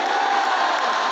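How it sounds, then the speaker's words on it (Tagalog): A church congregation at an El Shaddai anniversary service erupts in loud, dense applause mixed with shouts of Hallelujah, a steady roar of crowd noise throughout. "Palakpakan po natin ng malakas ang kanyang salita."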